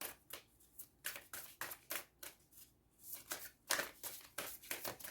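A deck of synchronicity cards is shuffled by hand in repeated quick riffling bursts separated by short pauses, crisp and close but quiet.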